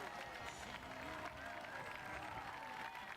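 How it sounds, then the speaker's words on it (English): An outdoor crowd at the Nautical Days Build, Bail and Sail boat event claps and cheers in a steady wash of applause, with a voice over the noise. "crowd goes wild once again"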